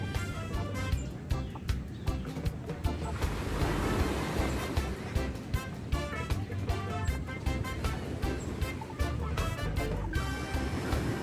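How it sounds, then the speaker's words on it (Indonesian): Ocean surf at Binalatung Beach rolls in a steady wash with wind buffeting the microphone, punctuated by regular clicking or knocking sounds throughout. "Ini guys keadaannya sekitar di Pantai Binalatung atau di Pantai"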